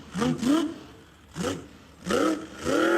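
A monster truck at the Malicious Monster Truck Tour in San Bernardino, California, revs hard while driving up and over cars, its engine surging in four loud, close bursts with brief lulls between.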